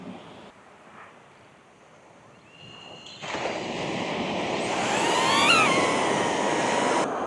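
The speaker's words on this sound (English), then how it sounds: "I'm going to take off in normal mode to start with, just to check how the drone is flying" A DJI Neo drone takes off over a beach, its thin motor whine rising and holding steady above a broad wash of surf and wind.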